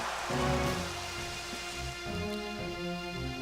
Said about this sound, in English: And it uses Rain Dance.